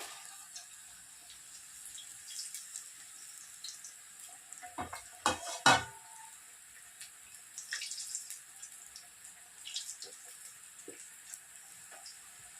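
Fish-shaped samosas deep frying in oil over a medium flame, a soft steady bubbling hiss with a few sharper crackles and pops bunched near the middle, fairly quiet and close.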